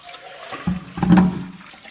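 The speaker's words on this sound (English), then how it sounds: "Fill this up with a little bit of water." Tap water pours into a cooking pot in a kitchen, a short gurgling rush that builds and splashes for about a second before easing off.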